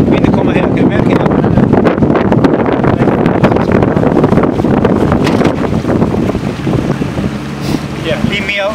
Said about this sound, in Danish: Vinden kommer her, kan du mærke her?